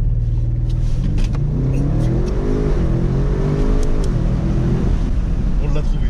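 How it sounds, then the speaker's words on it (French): Audi RS6 C8 with 600 horsepower launching hard under launch control, the engine note rising steadily in pitch as it pulls through the gears, loud and close from inside the car, with voices talking over it. "on va tester le launch control si on le trouve"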